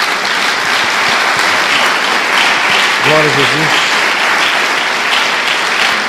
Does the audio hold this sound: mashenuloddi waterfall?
no